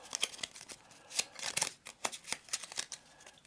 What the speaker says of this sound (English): we need to do a blind shuffle